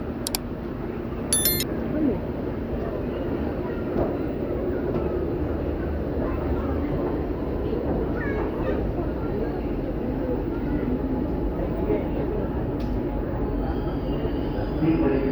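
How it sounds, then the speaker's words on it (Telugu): A Chennai metro train rumbles into an underground platform, a loud steady roar and clatter filling the station with a few brief high beeps, while a person talks over it. "ఇప్పుడే మనకి మెట్రో ట్రైన్ అయితే వచ్చిందనమాట"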